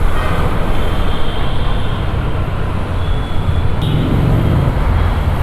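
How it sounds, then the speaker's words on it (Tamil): Dense road traffic heard from a motorbike ride, a loud continuous rumble of cars, buses and trucks with steady engine and tyre noise and no break. "பட் வந்து ரொம்ப டிராஃபிக் ஆகுது, தாங்க முடியல."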